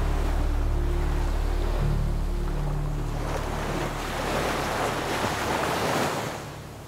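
Surf washing onto a broad, sandy Konkan beach along the Ratnagiri coast at low tide, a steady close wash of breaking waves with some wind noise on the microphone, easing off slightly toward the end.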